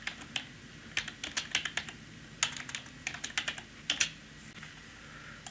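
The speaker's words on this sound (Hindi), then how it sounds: "तो हम यहाँ पे टाइप कर लेते हैं दोबारा" Keys clatter on a computer keyboard during data entry in Microsoft Access, irregular bursts of crisp clicks at close range with short pauses between words, no speech.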